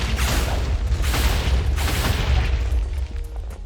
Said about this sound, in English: Just don't mind the explosions here.